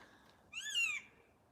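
A bird calls once out in the woods at an airsoft field, a short faint rising-and-falling whistled note heard from a distance against quiet outdoor background.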